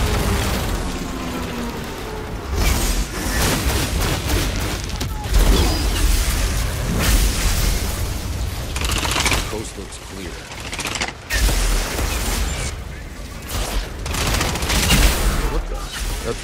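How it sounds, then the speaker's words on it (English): Artillery strike in the shooter game Outriders: a dense barrage of booming explosions and gunfire-like bursts rolls on continuously for the whole stretch, loud and close, with in-game voices faintly mixed underneath. "Artillery support incoming!"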